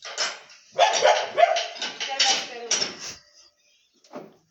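A dog barks repeatedly at close range in short loud bursts, followed by a pause and one final brief bark.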